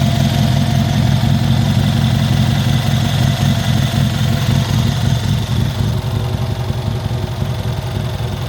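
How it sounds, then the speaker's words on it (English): An old car fitted with a modern engine idles right after a cold start: a loud, close, steady rumble with a fast, throbbing pulse that runs unbroken and unaccompanied throughout. "This sounds absolutely insane. Can you hear it now? It's got a cold start."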